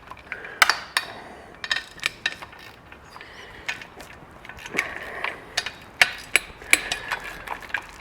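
Sharp, irregular ratchet clicks and metallic ticks as bolts are broken loose on a 1978 Yamaha DT400E engine, close and crisp, alone with no voices.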